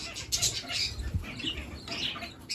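Pet budgies and kakarikis in a small indoor bird room, a busy mix of chirps, squawks and scratchy calls close by, with light rustling and fluttering.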